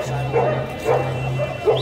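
Dogs bark and yip repeatedly at an open-air dog market, close and fairly loud, with short whimpering yelps in a steady rhythm over a continuous low hum.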